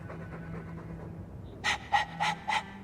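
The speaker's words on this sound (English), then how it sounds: "All that noisy dog breath, day in, day out, make him stop." A dog pants in the video game Dragon Age 2, four short, breathy bursts coming in an even rhythm near the end after a low, quiet hum of ambient background.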